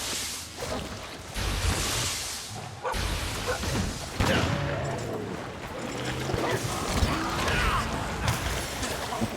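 Gunlance shelling in Monster Hunter Rise, heavy explosive blasts and crashes layered with monster roars and busy battle noise, loud and continuous.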